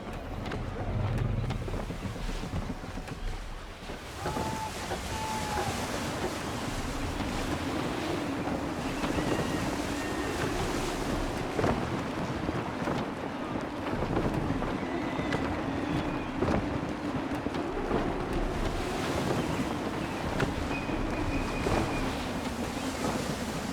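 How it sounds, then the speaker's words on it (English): Gusty wind buffets the microphone at sea while ocean waves surge and wash around a sailing ship in Assassin's Creed III, with occasional creaks and thumps from the vessel in a steady, dense wash of sound. "Gusty winds can be difficult to manage."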